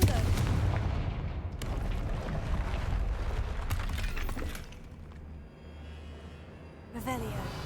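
The Confringo blasting spell in Hogwarts Legacy bursts with a heavy explosive roar that holds for several seconds and then fades, a sharp crack and rumble near the end, while a voice speaks over the action.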